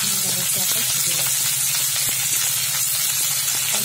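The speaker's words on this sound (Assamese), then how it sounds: "এইখিনি এতিয়া অলপমান জালুকীয়াকৈ ভাজি ল'ম।" Onions frying in a wok (kerahi) for a pigeon meat curry, a dense steady sizzle and hiss close up with occasional stirring clicks, no talk over it.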